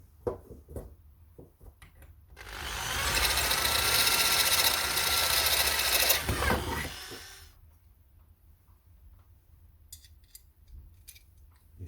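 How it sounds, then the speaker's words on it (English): A high-pitched electric drill whines steadily for about five seconds, enlarging rivet holes in armour plates, with quieter clicks and handling noises before and after. "I'm going to take a drill. I'm just going to open up these holes by 1/2 mil."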